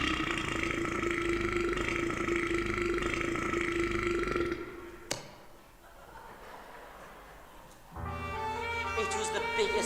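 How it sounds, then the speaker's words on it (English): A huge, prolonged burp during a stage play performance, loud and rumbling for several seconds before cutting off into a quieter room, then more noise returns. "It was the biggest burp I had ever done."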